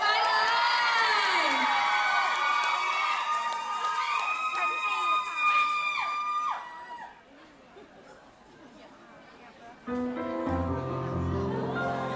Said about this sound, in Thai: ขอเสียงกรี๊ดดังๆให้กับศิลปินสุดฮอตของเราทั้งสามท่านด้วยครับ